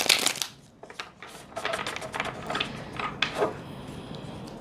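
Tarot cards are shuffled repeatedly up close, a series of soft riffling and flicking bursts in an irregular rhythm, fairly quiet.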